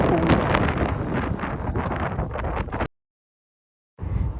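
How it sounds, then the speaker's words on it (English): Heavy wind buffets the microphone in a loud, rumbling roar, cutting to silence for about a second before gusting back. "It was too windy and very cool."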